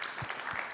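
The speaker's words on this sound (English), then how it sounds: "Let's give them another round of applause." A brief burst of audience applause follows a panel discussion at a gaming technology event, dense quiet clapping lasting under a second.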